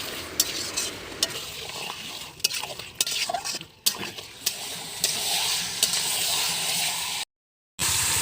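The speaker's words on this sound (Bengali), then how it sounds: "এবার আমি মাংসটা মশলার সাথে মিশিয়ে নেব" Chicken pieces being stirred with spices in a pot for a village-style curry, with scraping, clattering strokes over a steady sizzle, close and fairly busy, broken by a short silent gap near the end.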